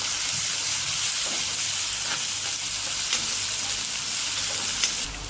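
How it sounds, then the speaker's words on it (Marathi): Onion sizzles in hot oil with mustard seeds, cumin, ginger-garlic and green chili for a potato curry. The frying hiss is steady and loud throughout, with faint stirring ticks. "तेल तापले, तेलामध्ये मोहरी तडतडली की जिरं, आलं लसूण आणि मिरची, कांदा परतून घेऊया आपण."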